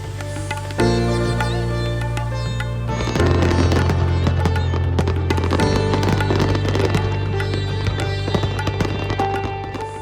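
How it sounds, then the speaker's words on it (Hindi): Diwali firecrackers bursting in the streets, a dense continuous barrage of crackling pops and bangs, loud and sustained throughout, with no voices heard. "गली मोहल्लों से लेकर चौक चौराहों पर सिर्फ पटाखों का शोर ही सुनाई देता है।"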